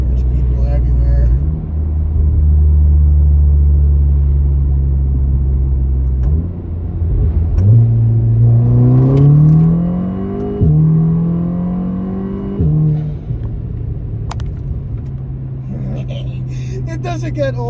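A Volkswagen Golf R on H&R lowering springs pulls hard through its gears from inside the cabin, a deep engine drone rising in pitch with each shift, then settling to a steady rumble, with someone talking.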